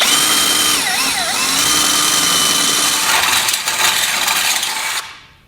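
A power drill opens holes in the frame rails of a 2019 Jeep out to half an inch while fitting a Roadmaster base plate, whining loudly with wavering pitch for about five seconds before spinning down and stopping.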